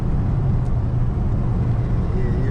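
A Dodge Daytona Hellcat Widebody spinning its tires under hard throttle, a loud, steady roar of engine and tire noise that fills the whole stretch without a break.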